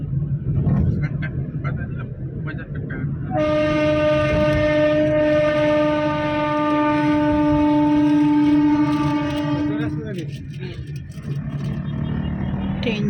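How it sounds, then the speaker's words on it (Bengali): A local train passes at night in Kolkata, a loud rumbling roll of wheels with a long sustained horn blast sounding close by in the middle, and people talking over it. "যাচ্ছে ট্রেন যাচ্ছে"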